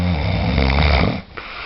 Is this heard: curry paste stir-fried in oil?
no